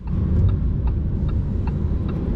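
Lamborghini Huracan Sterrato V10 cruising in Strada mode, a subdued, steady low engine rumble with a faint rhythmic ticking over it, mellow rather than screaming, with no talk.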